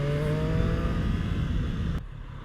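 A Triumph Street Triple RS motorcycle engine pulls hard in second gear coming out of a corner, a loud, steady, rising engine note with no talk, ending in an abrupt cut near the end.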